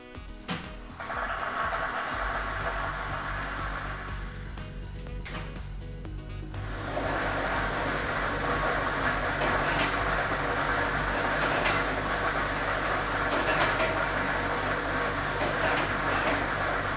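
A lottery draw machine switches on and churns its set of numbered balls, a steady whirring roar with rattling that starts abruptly and grows louder after a brief pause.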